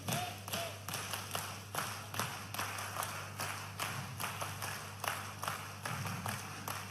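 At a farmers' conference in Harda, a crowd claps in a patterned Harda-style rhythm of crisp, evenly spaced claps in repeating groups, moderately distant and continuous throughout.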